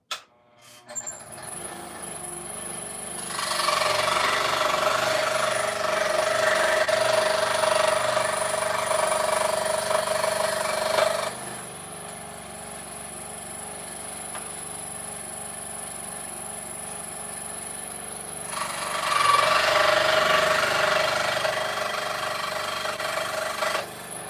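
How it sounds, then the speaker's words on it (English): Loud, steady power sawing of wooden puzzle pieces in two long bursts separated by a quieter, lower running stretch, with a persistent high whine throughout and no talking. "I probably won't be talking during while I'm sawing these, so if it is loud, turn your volume down"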